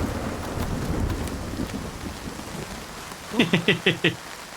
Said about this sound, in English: Oh, it's fucking hailing.